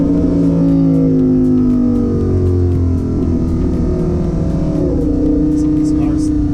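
Lamborghini Huracan engine droning loud and steady from inside the cabin, rising and shifting in pitch as the car accelerates, with people talking over it.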